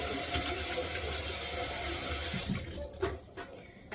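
Water runs steadily from a tap as a constant hiss, which eases off near the end, followed by a few light clanks, with no talk.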